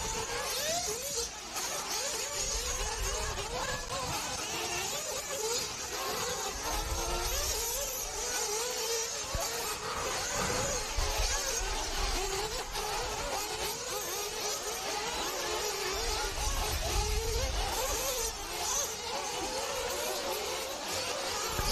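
1/8 scale nitro RC truggies race around an off-road track at the ROAR national championships, their engines making a continuous high, nasal buzz that swells and fades as several cars pass, with no voices.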